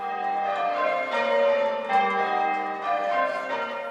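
Church bells ring out from a tower in Dunblane in a steady, overlapping peal with rich sustained tones, fairly close and continuous, with no voices.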